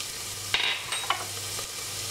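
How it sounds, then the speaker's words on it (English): Minced garlic hits a hot pan for a curry sauce, giving a steady close sizzle, with a few short scraping stirs rising above it. "add your minced garlic"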